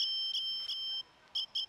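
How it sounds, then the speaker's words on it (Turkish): Apple Watch Ultra siren sounding in a forest: piercing high-pitched electronic tone in repeated pulses, a long steady stretch followed by two short bursts, loud and alone. "Buradaki sesi biraz kısacağız çünkü bu siren sesi büyük ihtimalle sizi çok rahatsız edecek."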